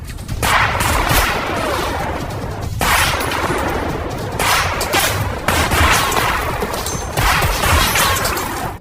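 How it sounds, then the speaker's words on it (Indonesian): Dense bursts of automatic gunfire from captured weapons in an action film battle scene, loud and sustained with rapid overlapping volleys and brief gaps, no talk. "mereka menembaki para prajurit tersebut dengan membabi buta"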